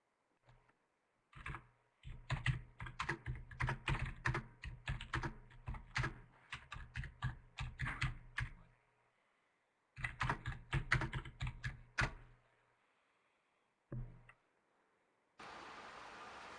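Fingers type in fast bursts on a computer keyboard, close and crisp, with dense clattering keystrokes broken by short pauses and a final brief click, heard alone without talk.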